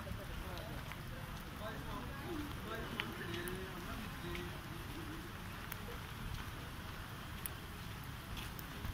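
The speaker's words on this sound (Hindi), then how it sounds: "बारिश की वजह से सारा कॉलेज भर गया" Steady rain hisses and patters throughout at a constant level on a flooded college campus, with a faint murmur of distant activity underneath.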